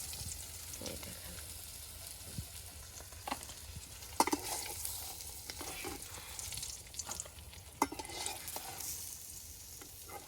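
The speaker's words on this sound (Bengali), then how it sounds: "পাঙাশ মাছ ভাজলে খুব তেল বের হয়" Pangas fish heads frying in oil hiss softly and continuously, with occasional pops and utensil clicks over about ten seconds, fairly quiet and free of talk.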